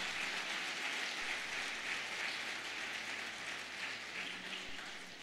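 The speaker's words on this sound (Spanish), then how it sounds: "Dale un aplauso al Señor" A church congregation clapping for the Lord during a sermon, a soft, continuous wash of applause heard at a distance with no talking.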